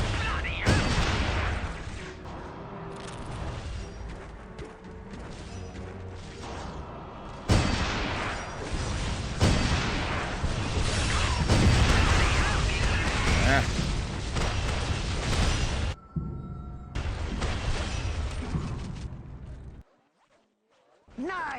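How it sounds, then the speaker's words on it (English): A rocket launcher in the video game Giants: Citizen Kabuto fires and explodes repeatedly: loud, booming blasts that fill most of the span over talking voices, then a sudden drop to near silence. "why am I not using my rocket launcher?"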